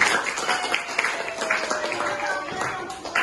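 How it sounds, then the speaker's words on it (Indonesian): Classroom applause for a student group after its presentation: a moderate patter of many hands clapping, fairly close and uneven, with students murmuring underneath. "Tepuk tangan untuk kelompok 1."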